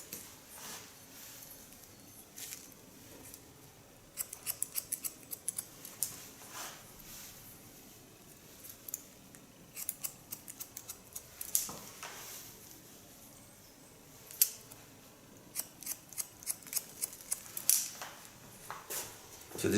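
Scissors cut hair during a haircut, producing bursts of quick, crisp, close snips in irregular clusters over a quiet background.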